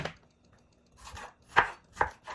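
Peppers, broccoli and jalapenos being chopped on a cutting board, with a few sharp knife strikes after a quiet start, close and moderately loud, no talking.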